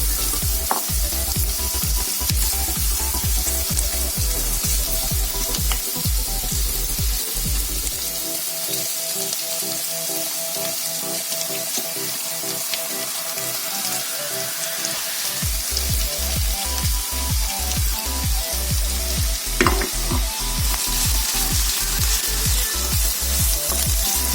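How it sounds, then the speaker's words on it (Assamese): Potatoes and onions sizzling in hot oil in a pan for masala dosa, a loud continuous crackle with frequent stirring scrapes and no voices. "পিয়াজখিনি অলপ ভাজা অলপ মই এতিয়া আলু কেইটা অলপ ভাজি"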